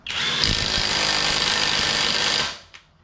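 A SeyVum half-inch impact wrench driving a lug nut, loud and close, hammering in one continuous rattling burst of about two and a half seconds before winding down, followed by a single short click.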